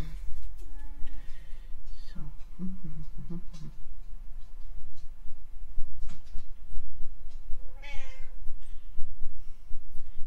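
A house cat meows repeatedly at close range in a room during a live painting stream, giving several short, separate calls over a steady low hum.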